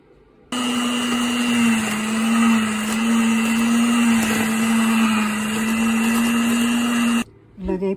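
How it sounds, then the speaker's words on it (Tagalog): An electric blender whirs steadily and loudly as it mixes cream cheese, sugar and vanilla, running for about seven seconds before stopping, with someone speaking over it. "Ngayon po ay blend na po natin ang cream cheese,"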